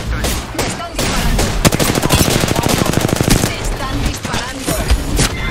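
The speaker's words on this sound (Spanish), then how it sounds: "Me están disparando." Sustained automatic gunfire in Apex Legends, a dense loud rattle of rapid shots that runs almost without a break amid ongoing battle noise.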